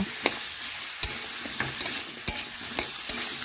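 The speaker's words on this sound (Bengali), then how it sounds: "এখন ভালোভাবে খুরপি দিয়ে নাড়াচাড়া করে 2 থেকে 3 মিনিট আমি রান্না করে নেব।" Bitter gourd curry frying in a pan with a steady sizzle, while a spatula stirs it in regular sharp scrapes and taps about every half second, close by.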